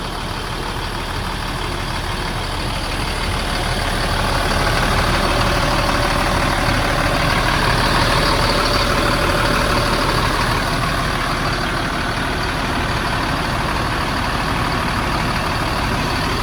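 A Mercedes coach bus engine idles with a steady, loud low rumble as the coach shifts to another parking spot, constant and broadband throughout with no talk.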